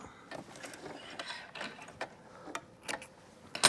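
A sewing machine back tacks in reverse while stitching a torn pant pocket seam, giving quiet, irregular mechanical clicks and ticks close by, with no voices.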